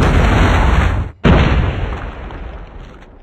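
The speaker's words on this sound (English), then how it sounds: "Predator missile on standby. Friendly predator missile inbound." A predator missile strike in Call of Duty Mobile bursts as a loud, heavy boom that cuts out briefly, then rolls back in and slowly fades over a few seconds.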